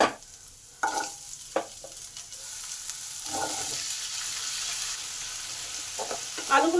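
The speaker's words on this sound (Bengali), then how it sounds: "আলুগুলো একটু মশলার মধ্যে ভালো করে নেড়ে নিই।" Potatoes being stirred into frying spices in a pan, with bursts of scraping stirs over a continuous close sizzle, and no one talking.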